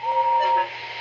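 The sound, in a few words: steam hissing from model steam locomotive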